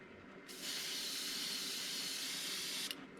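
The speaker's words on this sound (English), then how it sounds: "We're going from front to back now with the red. And I just want to get some of that overspray on there." Red spray paint hissing from a can in one continuous burst of about two and a half seconds, close and fairly quiet, starting and stopping abruptly, on a fishing lure.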